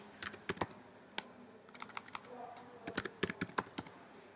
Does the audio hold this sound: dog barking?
no